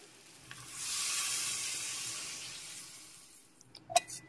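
Water poured into a pan of frying potatoes and ridge gourd for a prawn curry, a loud steady sizzle and hiss that swells, holds, then fades, ending with a few sharp utensil clinks.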